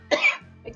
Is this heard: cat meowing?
no